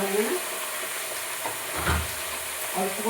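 Bottle gourd sizzles and fries in a pan after spices are tempered, a soft steady hiss with faint stirring scrapes and a brief low knock near the middle.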